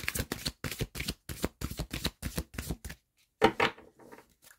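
A deck of cards is shuffled in a rapid run of close, crisp riffling bursts, followed by a pause and a single card being drawn with a soft flick.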